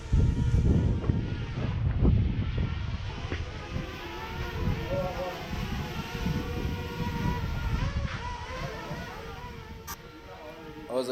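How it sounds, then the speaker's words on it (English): A DJI Spark drone flying in high wind, heard as heavy wind buffeting and rumbling against the microphone with a faint motor whine underneath, loud and continuous, with people talking at times. "I was about to lose the drone because of the GPS signal loss and because of high wind."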